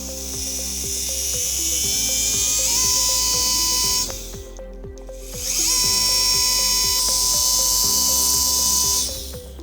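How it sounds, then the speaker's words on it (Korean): Dental drill boring a small hole through the lateral bony wall during a lateral-approach sinus procedure, whining steadily at high pitch in two long bursts separated by a brief pause, close and alone. "그래서 측벽에 구멍을 뚫게 되겠죠"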